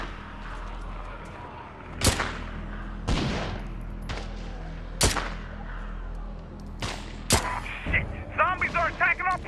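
Several separate loud gunshots crack out at irregular intervals from a gun in the zombie survival game State of Decay 2, with steady background noise and short, clipped sounds toward the end.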